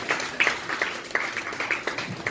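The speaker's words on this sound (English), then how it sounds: "Clap till she gets here." A small comedy-show audience gives scattered, uneven applause, with individual hand claps popping out irregularly over a soft room murmur for a couple of seconds.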